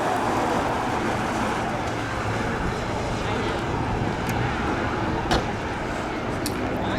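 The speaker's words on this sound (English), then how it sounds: "right now doing a little spectator drag racing" Cars at a winter warm-up spectator drag racing event at Freedom Factory produce a steady, loud, broadband roar that stays fairly even throughout, with a brief sharp knock near the end.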